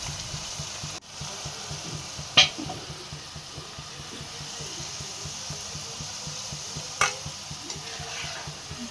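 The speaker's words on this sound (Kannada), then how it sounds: "ಸೊ ಹಾಗಲಕಾಯಿನ ಚೆನ್ನಾಗಿ ಡೀಪ್ ಫ್ರೈ ಮಾಡ್ಕೋಬೇಕು ಎಣ್ಣೆಯಲ್ಲೇ" Bitter gourd deep frying in oil, a steady low sizzle and bubble with light stirring and two sharp clinks of a utensil against the pan.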